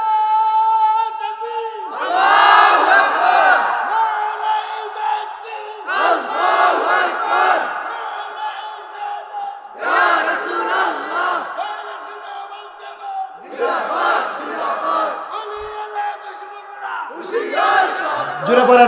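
A large gathering at a religious sermon loudly shouting the takbir, repeated powerful waves of massed voices roaring in unison, each swelling then breaking off into short pauses, with a leader's voice between the surges.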